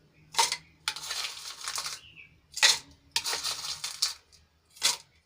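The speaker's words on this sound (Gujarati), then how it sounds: "તો અહીંયા હું બબી ચમચી જેટલો બરફ એડ કરું છું" Ice is spooned into two glasses while preparing rose sharbat, giving several distinct bursts of clattering, crunching cubes with short quiet gaps between scoops, close and fairly loud.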